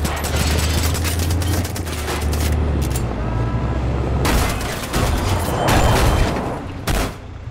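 A Far Cry 5 co-op session gives off rapid bursts of in-game gunfire aimed at a vehicle's tire. Loud cracks come in clusters over a rumbling engine bed, with no voices.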